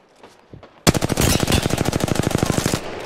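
Rapid automatic gunfire in a video game: a long, dense, steady burst of loud shots that starts abruptly and continues without a break.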